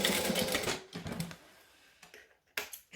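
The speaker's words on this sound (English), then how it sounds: "stitch from point A to point B" Short bursts of sewing machine stitching run across a bag lining from one seam to the other, with a rapid mechanical whir that stops and starts and leaves quiet gaps between runs.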